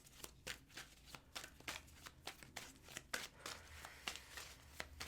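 Tarot cards are shuffled by hand at close range, a rapid run of crisp papery slaps and flicks repeating in quick irregular bursts, fairly quiet throughout.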